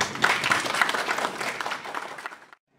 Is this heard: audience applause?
yes